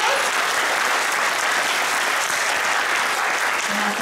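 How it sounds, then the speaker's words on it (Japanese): Audience applause at a 2019 uniform unveiling event for the Giravanz Kitakyushu football team, a dense, steady burst of clapping from a crowd that stays loud and even throughout. "大きな拍手をお願いいたします。"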